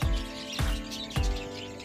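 Pet budgerigars, a pair bonding in a breeding setup, give three sharp chirps at regular intervals, close and clear over a low background hum.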